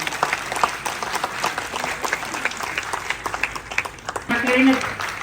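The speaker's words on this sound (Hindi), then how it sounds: "जोरदार तालियों से स्वागत करिए" Loud applause greets a humour poet at a Hindi Day programme at Lucknow University, a crowd clapping steadily before a voice cuts in near the end.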